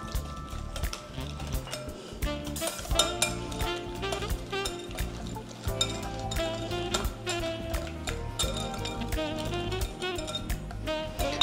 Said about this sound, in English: And now we just whisk this together.